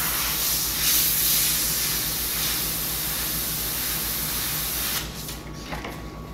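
Airbrush spraying paint to highlight rivets and overlapping panels, a steady close hiss running unbroken for about five seconds before it cuts off and leaves quieter room sound.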